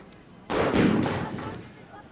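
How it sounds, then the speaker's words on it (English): Firecrackers set off by fans on the stadium terraces during a 1991 rugby league match between Carcassonne and Catalan burst out suddenly in a loud, crackling rush over distant crowd noise, then trail off. "having a time with the firecrackers on the terraces"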